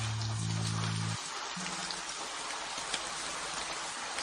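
Steady rain falling, a broad continuous hiss of drops on surfaces, with a low tonal hum fading out early on.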